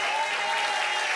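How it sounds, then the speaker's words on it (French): Studio audience applauding to welcome a guest onto a French talk show, a dense, steady wash of clapping filling the room at full level with no break. "je vais vous demander d'applaudir et d'accueillir Florent, mesdames et messieurs."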